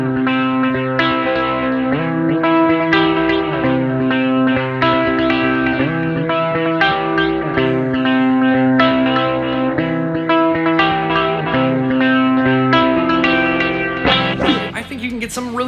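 An electric guitar runs through a Boss GT-1000 Core's sitar simulator and defretter effects into an amp, with droning, buzzy sitar-like tones and smooth, slurred notes over a sustained bass, played continuously.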